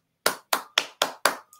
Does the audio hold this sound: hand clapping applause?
yes